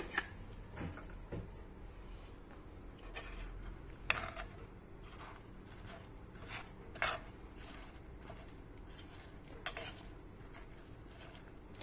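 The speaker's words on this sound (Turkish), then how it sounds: "Şimdi sebzelerimizi harmanlayalım." Vegetables are tossed with a spoon in an earthenware clay casserole after a little cooking oil goes in, giving soft irregular scraping and clinking, with a few sharper knocks against the pot, quiet and close.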